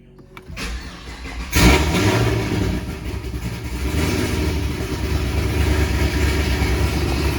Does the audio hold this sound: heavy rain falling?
no